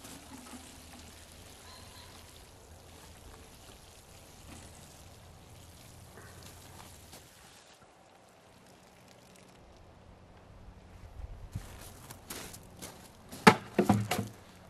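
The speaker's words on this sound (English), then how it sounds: "give them a good water." Water splashes and trickles onto broccoli seedlings in mulched soil, a faint steady patter that swells into louder, closer splashing near the end, with no voices.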